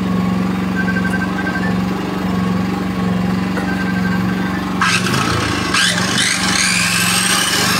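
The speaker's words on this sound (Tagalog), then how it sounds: "Yun, gumana rin sa circular saw." A circular saw powered by a Toyohama inverter portable generator: a steady engine hum with a whining motor, then the blade bites into material with rising screeches around the later seconds, loud and close.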